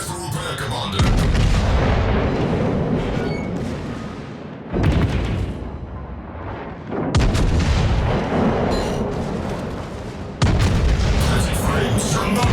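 Naval artillery in World of Warships, heavy booming salvos in long rolling bursts with sharp onsets, loud and close, broken by short quieter gaps.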